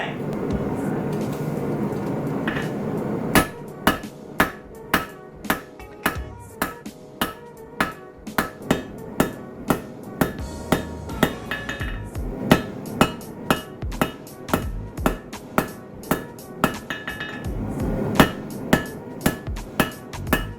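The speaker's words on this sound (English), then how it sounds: "I'm going to switch to the crossbeam hammer to forge out the tang" A cross peen hammer forging out the tang of a hand-made knife, striking hot steel on an anvil in a steady run of sharp, ringing metallic blows, close and loud over a low background roar.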